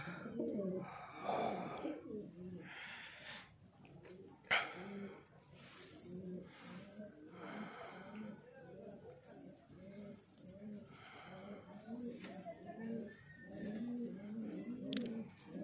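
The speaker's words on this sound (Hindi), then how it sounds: "ये सारे जोड़ों वाले कबूतर है, जोड़ों ब्रीडर्स है सारे।" Paired breeder pigeons in a loft coo over and over, several birds overlapping in a soft, close, continuous murmur with a few sharper flutters.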